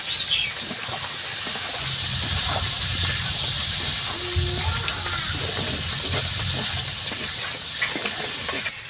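Steady hissing sizzle of fried pointed gourd sautéing in a hot pan, with faint scraping and clinks of stirring throughout.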